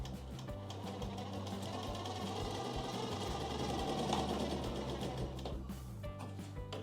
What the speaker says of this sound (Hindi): ऐसे रखें और सिलाई कर दें।